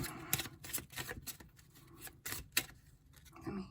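Cards being riffled and shuffled nearby, a dense run of quick papery flutters and snaps rising and falling in bursts.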